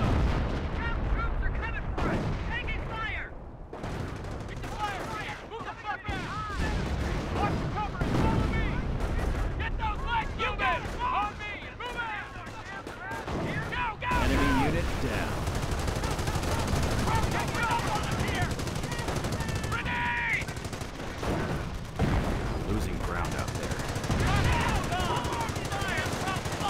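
A Company of Heroes battle between American and Wehrmacht forces, with dense continuous machine-gun fire and booming artillery, and soldiers shouting throughout.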